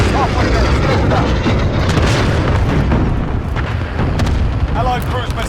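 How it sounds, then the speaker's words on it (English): Cluster strike explosions in Modern Warfare Ground War mode, a continuous loud rumble of overlapping blasts and booms with no pause. "Enemy cluster strike incoming."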